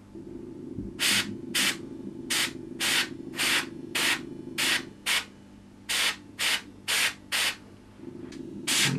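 An airbrush sprays paint in about a dozen short, evenly spaced hissing bursts, each lasting under half a second, over a low steady compressor hum close by.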